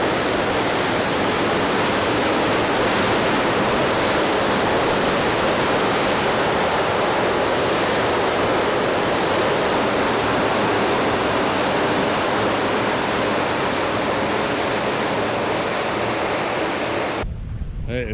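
Water released below the Edison Lake dams at Big Creek roars in a dense, continuous wash, loud and unbroken from start to finish with no voices over it.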